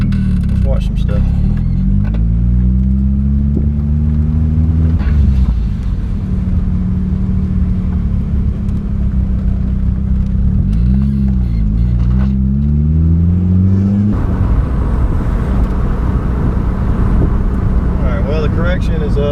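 A turbocharged Nissan S13 convertible driving with a raised exhaust, a steady engine drone rising and falling through gear changes under continuous wind rumble, while a person talks throughout.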